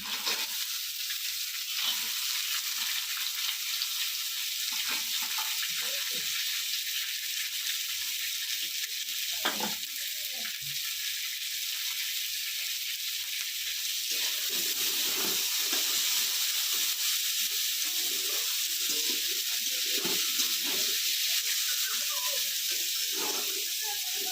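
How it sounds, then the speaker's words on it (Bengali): Eggs added to a pan of lightly fried carrot for veg chowmein hiss and sizzle steadily and loudly, with a bright continuous frying noise and occasional soft stirring scrapes underneath. "গাজরটা হালকা করে ভেজে নিয়েছি প্রথমে এবার ডিম ডিম দিয়ে দিচ্ছি"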